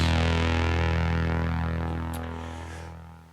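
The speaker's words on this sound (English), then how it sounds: "for the synth sound I have used AL1 engine, 2 oscillators with 2 source wave" A sustained synthesizer tone from two oscillators through a filter, with some low and high end cut, holds a rich steady chord, slowly fading toward the end, with no voices.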